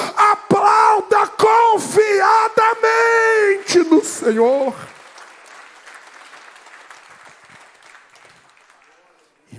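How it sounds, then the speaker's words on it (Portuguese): A church congregation breaks into applause and cheering, starting under a preacher's loud, sung exhortation and then carrying on as softer, scattered clapping that fades away. "Quem recebe esta palavra, aplauda"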